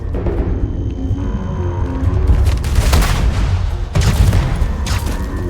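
A grenade blast and bursts of gunfire erupt in Starfield, a loud booming impact followed by crackling rapid shots and a second heavy hit, all close and dense.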